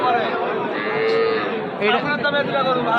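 Young desi and Sahiwal heifer calves moo loudly and continuously up close at a cattle market in Joypurhat, with other animal and crowd noise blending in the background.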